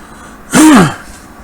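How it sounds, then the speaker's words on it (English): A single short, harsh throat clearing, close and alone against a quiet background. "I'm clearing my throat a lot."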